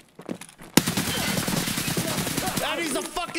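Gunfire in an Escape From Tarkov raid: a sharp shot opens a loud, sustained burst of rapid automatic fire lasting several seconds, with short voice-like squeals near the end.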